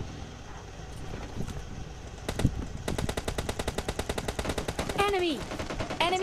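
Rapid automatic gunfire in a tense team deathmatch video game crackles in sustained bursts, preceded by a few scattered shots and followed by sliding whistle-like effects, fairly loud throughout.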